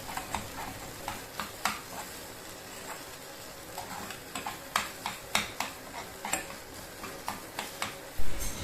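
A spoon stirs squid filling mixed with grated coconut in a pan, making a series of sharp, irregular clicks and scrapes against the metal that grow busier in the second half. No voices are heard.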